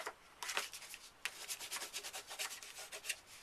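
Paper graduation-cap card being burnished by hand, a soft scratchy rubbing in quick repeated strokes, close and fairly quiet with no voices.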